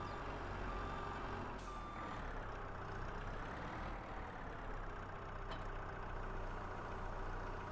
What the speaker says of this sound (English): let's hop into our skid steer and hook up to our hammer